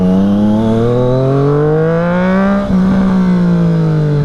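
A Triumph Street Triple RS motorcycle accelerates hard through a downtown street, its loud, close engine whine climbing steadily in pitch. A brief dip near the end marks a gear change before the engine pulls on.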